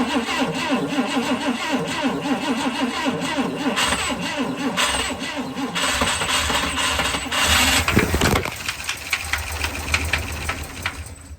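Starter cranking the engine of a 1959 Chrysler Windsor, a loud rapid rhythmic churning that runs for about eight seconds and then cuts off, leaving quieter rattling and background noise.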